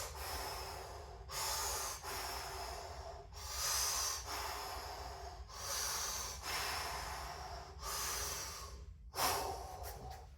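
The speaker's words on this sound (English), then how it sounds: "So the breathing really helps you adjust to the temperature" Deep, forceful breaths taken just before climbing into a homemade cold plunge tub, long rhythmic inhales and exhales with brief pauses, close to the microphone and loud, no talk.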